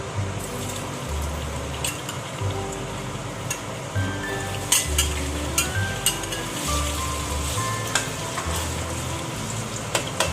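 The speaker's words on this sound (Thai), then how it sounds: "ทอดไฟร้อนๆครับทอดไปเรื่อย ๆ ครับ" Pork deep-frying in hot oil, a dense, continuous close crackle and sizzle with occasional sharper pops and stirring, steady and fairly loud throughout, with no voices.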